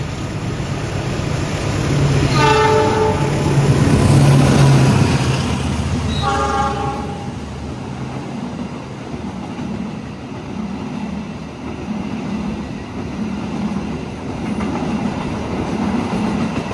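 The Semeru passenger train rumbles steadily past nearby on track 3 with a rolling clatter of wheels, while two short horn blasts sound in the first few seconds.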